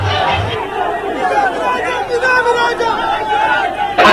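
On a highway in Jangaon, police and BRS party members scuffle as a crowd shouts and chatters loudly, voices overlapping in an agitated babble.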